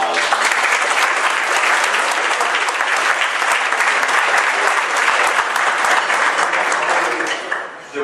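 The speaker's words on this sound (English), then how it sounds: "so let's give him a round of applause." Sustained applause from an awards audience at a comics industry presentation honoring a late comics editor, loud dense clapping that holds steady for several seconds before tapering at the end.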